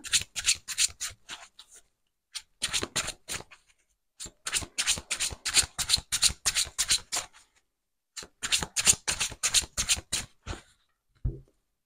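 A deck of tarot cards is shuffled by hand in several bursts of quick, crisp riffling and slapping, close and fairly loud, separated by short silent pauses, with no voices.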